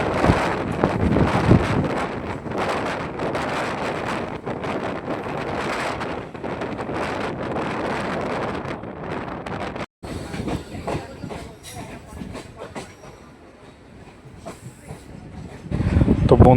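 A second local train passes close by during a crossing on the Naihati to Majerhat line, its loud rushing rumble and wind noise filling the first ten seconds, then a quieter rattle of the moving carriage.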